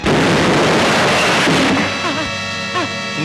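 A bomb explodes in a Telugu film scene with a loud, sudden blast and a crashing burst that decays into rumbling debris.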